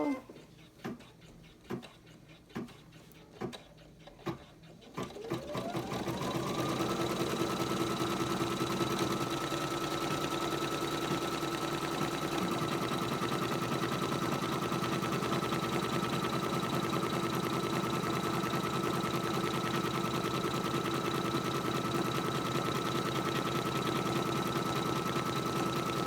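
An embroidery machine stitches a coaster in the hoop. A few sharp clicks come first, then a steady, loud mechanical whir with a constant hum that runs unbroken to the end.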